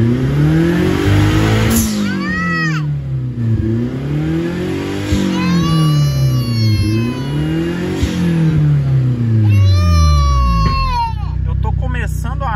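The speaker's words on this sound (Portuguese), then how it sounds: "chegou quase 7 mil giros. Mas a pressão de turbo não sobe, ó." A turbocharged VW Gol with a suspected failing turbo revs repeatedly to nearly 7,000 rpm, loud and close, its engine note sweeping up and down in steady cycles with a whistling whine on top.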